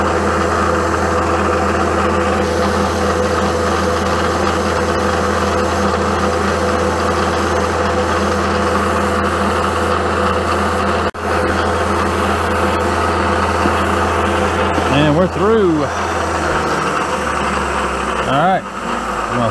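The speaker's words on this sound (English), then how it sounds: "Get the rotary phase converter on, we'll get the mill on" A rotary phase converter and milling machine run together in a workshop, producing a loud, steady electrical hum and mechanical drone that holds throughout, with brief rising and falling tonal sweeps near the end.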